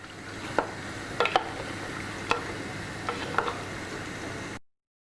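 A spoon stirring tamarind juice into a simmering bottle gourd stew, with a steady low bubbling bed and a few light clinks against the pot at irregular intervals.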